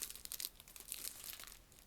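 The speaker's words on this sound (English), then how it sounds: "Let's get this out of the plastic bag and take a closer look." A plastic bag crinkles faintly and briefly as a ONEUS & ONEWE 2022 season's greetings set with a photo book and diary is unpacked. The rustle comes in soft, irregular bursts, with no voices.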